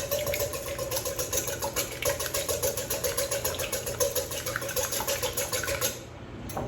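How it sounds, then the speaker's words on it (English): Two eggs are beaten by hand with a whisk, a quick, even rhythmic tapping and swishing against the bowl that continues steadily before stopping near the end. "So this one I'm just gonna do with a hand whisk."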